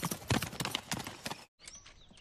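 Cartoon horse hooves clip-clop in a quick galloping rhythm, fairly close, then break off abruptly into a brief silence before fainter background sounds resume.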